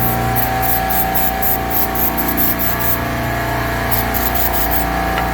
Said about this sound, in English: Spray it with some degreaser.